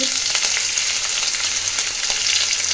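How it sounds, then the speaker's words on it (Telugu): Cumin, mustard seeds and cut green chillies hit hot oil with a dense, loud, continuous sizzle and fine crackle, heard close up with no talk. "ఆయిల్ వేడి అవుతుంది. దాంట్లోకి కొంచెం జీలకర్ర, కొన్ని ఆవాలు, ఆల్రెడీ కట్ చేసి పెట్టుకున్న మిర్చి"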